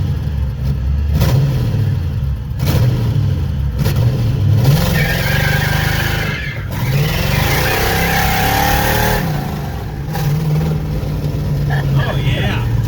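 A junkyard Ford Mustang Fox-body engine idles roughly near by, with several sharp revs and a longer climbing rev in the middle, while people talk over it.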